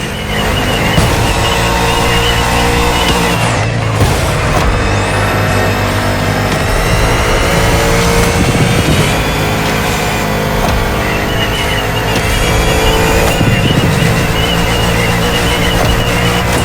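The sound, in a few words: Bugatti Vision GT car engine in video game The Crew Motorfest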